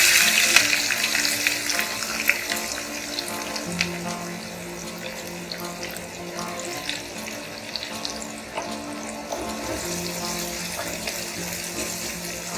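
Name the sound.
green chilli and onions frying in a pan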